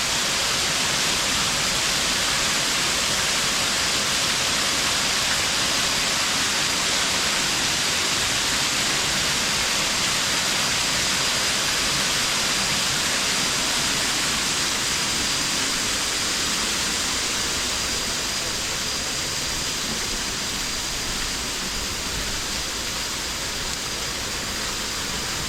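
Waterfall at a cave temple in Laos, a steady, loud, broadband rush of falling water filling the whole span with no break or change.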